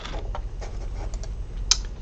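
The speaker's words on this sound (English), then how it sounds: "just type in my text" Quick bursts of keystrokes on a computer keyboard, close and fairly soft, a short run of taps with a sharper click near the end, no voices.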